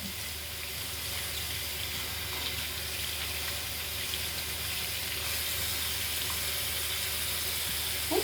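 A makeup brush is washed under running water, with a steady, even wash of splashing that fills the whole stretch without pause and no voices.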